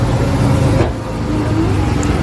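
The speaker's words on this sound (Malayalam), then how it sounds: "കാറ് സ്റ്റാർട്ടാക്കി കൊണ്ടിരിക്കുകയാണ്." A car engine runs steadily at close range, a loud continuous low rumble with a brief change in tone partway through, no talk.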